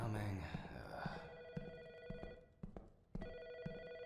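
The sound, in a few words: telephone ringing in a video game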